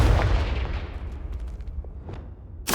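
A fiery Confringo blast spell goes off in Hogwarts Legacy, a booming burst at the start that decays into crackling rumble, followed by a sharp second hit near the end.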